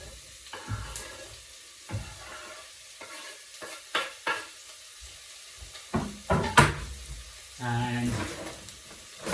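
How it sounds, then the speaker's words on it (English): Leeks go into a pan of olive oil, giving a soft sizzle with several stirring scrapes and clatters, and a brighter fry bursting near the end, under occasional speech. "So our leeks are ready, so they go into the olive oil."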